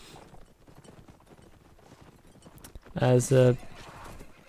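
Horse hooves clip-clop quietly in the background of a video game match, then a short loud vocal burst stands out near the end, with a voice speaking over it.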